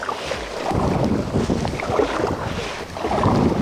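A Katana inflatable motor sled moves across open water against the wind, with a steady wash of water and heavy wind buffeting the microphone throughout.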